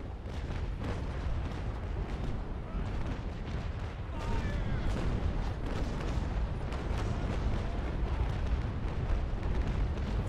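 Ship cannons in the Naval Action video game, during a port battle at Macao, fire in a continuous, heavy barrage of overlapping booms and rumbling blasts that holds steady and grows slightly louder partway through.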